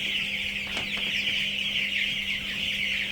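Chickens on a Polish farm raised for sale cluck softly in a group, a steady chorus of short clucks over a constant high background hiss, no talk.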